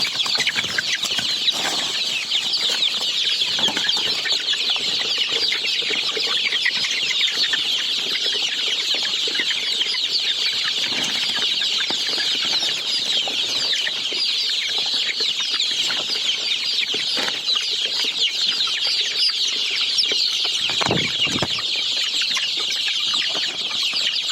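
A dense flock of local chickens on a poultry farm in Assam keeps up a constant clucking and cheeping chorus, steady and fairly loud throughout with occasional wing flaps and thumps.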